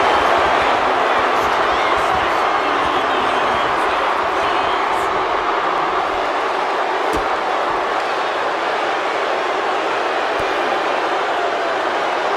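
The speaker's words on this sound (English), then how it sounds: "And Yokozuna is revving this crowd up." Arena crowd noise from a WWE 2K25 wrestling match, a steady loud roar of cheering spectators running throughout, broad and continuous with no break.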